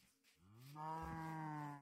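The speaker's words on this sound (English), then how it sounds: "Oh, hey, there's cows." A single drawn-out cow moo from the Minecraft video game, low and tonal, rising briefly and then holding steady for under two seconds, heard alone without talk.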